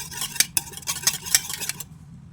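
Wheat cake batter being mixed in a bowl, with quick irregular scraping and tapping strokes close up that stop abruptly near the end, with no talking.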